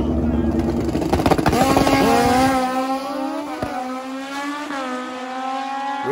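Drag bikes race down the track, their engines howling loud and rising in pitch, one passing close before easing into a steady high drone, with a commentator talking over.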